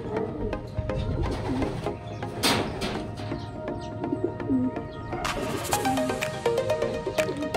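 Racing pigeons cooing as they arrive home at a loft after a 105 km race, with soft repeated coos and scattered chirps over a busy outdoor background.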